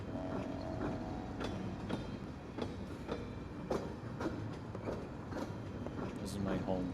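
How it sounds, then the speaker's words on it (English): A train ride in the video game Pathologic 2 rumbles steadily with rhythmic clickety-clack from the rails and occasional clanks, running continuously under a voice talking. "No one sells tickets to ride this train."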